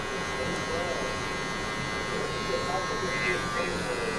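Electric hair clippers buzz steadily and continuously, up close, while cutting a low taper haircut with a 1/2 guard and the lever fully open.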